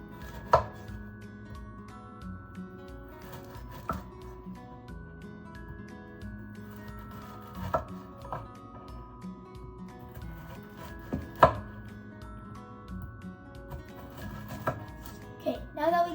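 A knife chops Pocky sticks into little pieces on a cutting board, with a series of sharp, irregular knocks and taps over steady background hum and faint voices.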